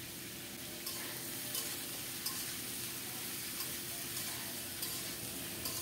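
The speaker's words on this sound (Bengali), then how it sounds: "আলুটাকে কিছুক্ষণ ভেজে নিয়ে এখন দেব বাকি সবজিগুলো, মিষ্টি কুমড়ো, গাজর, চিচিঙ্গা" Potato, pumpkin, carrot and snake gourd fry in a pan with a steady sizzle, punctuated by occasional stirring scrapes and clinks, close by with no talking.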